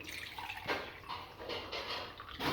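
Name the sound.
pouring about two glasses of water into a cooking pot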